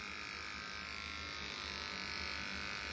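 Electric hair clippers buzzing steadily while trimming a dog's fur at home, a close, continuous high motorized hum with faint fluctuations, heard alone without talking.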